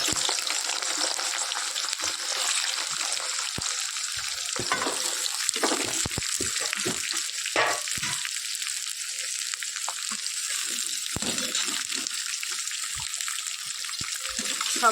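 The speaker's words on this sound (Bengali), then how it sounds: "এখন এটাকে সব একসাথে আমি ভাজা করে নেবো, সাদা তেল দিয়ে দিয়েছি।" Chopped vegetables fry together in white oil in a pan, giving a steady close crackling sizzle with occasional stirring scrapes and light clinks throughout.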